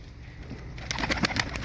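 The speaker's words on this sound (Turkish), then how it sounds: "Kendi kuşumu peşlerken başka bir kaçak kuş yakaladım" A stray yellow-grizzle (sarı kır) pigeon coos close by, a short run of soft throaty pulses that begins partway in.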